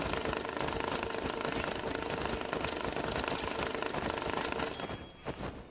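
A bill counting machine running banknotes, including yen, through its feeder, a loud close continuous rapid whirring flutter that winds down to scattered clicks near the end.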